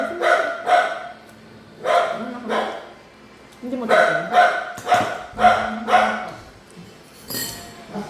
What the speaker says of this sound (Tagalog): Yung aso nga nila may ingay.